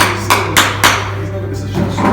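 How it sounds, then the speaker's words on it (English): A hammer strikes a shatterproof mirror three times in quick succession, each a sharp close impact, over a steady low hum with a brief rustle at the end. "I even brought a hammer."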